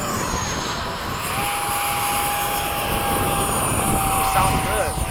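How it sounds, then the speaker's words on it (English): An RC model jet, an FMS 70mm F/A-18 or Freewing 90mm 8s F-22, makes a low pass after takeoff at a flying field, a rising and falling whining turbine-like roar sweeping past at moderate distance. "Low pass after takeoff, Robert."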